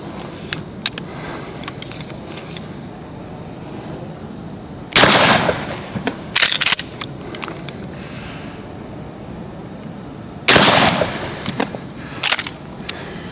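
Century-old pump-action shotguns, a Winchester M97 and M12, fire during an outdoor dove hunt, with two loud booming shots several seconds apart, each followed by sharp echoing cracks, over faint background noise.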